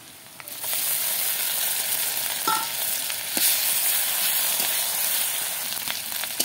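Ginger-garlic paste fries with browned onions in a hot pan, starting with a quiet moment before a loud, steady sizzle breaks in, with occasional stirring scrapes and pops.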